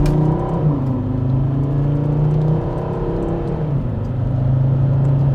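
A high-mileage Volvo XC90 with around 300,000 miles accelerating slowly, its engine revving in a steady, strained whir that rises in pitch and then settles, heard from inside the car with no talk.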